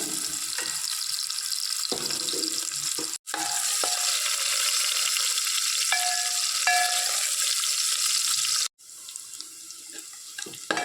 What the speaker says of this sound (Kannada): ಈರುಳ್ಳಿ ನೋಡಿ ಚೆನ್ನಾಗಿ ಫ್ರೈ ಆಗಿದೆ